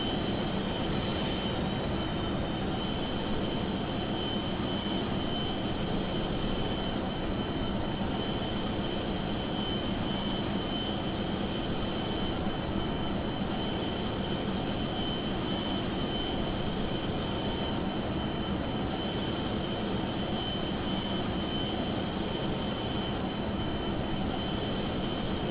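Airbus A320neo jet engines in Microsoft Flight Simulator 2020 during pushback, a loud, steady whine and roar that holds unbroken throughout with no voices.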